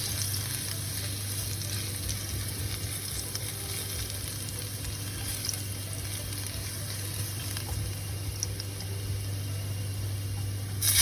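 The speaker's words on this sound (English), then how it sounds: "Let the garlic cook and brown up a little bit." Garlic browns in a hot pan for a Vietnamese warm beef noodle salad, giving a steady, close sizzle that runs unbroken under a low background hum.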